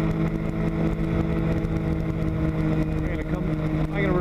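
A weight-shift trike's engine drones steadily in flight over Carson City and Lake Tahoe, loud and close, with a constant hum and slight throttle change toward the end.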